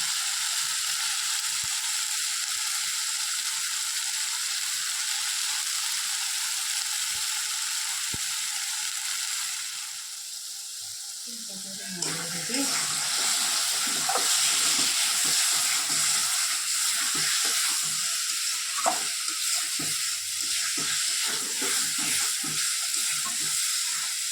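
Potato curry with spices sautéing in a pan: a quiet hiss at first, then a louder, continuous sizzle with rapid scraping and clattering of a spatula stirring close by.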